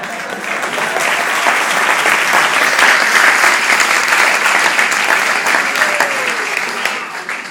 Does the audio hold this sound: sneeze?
no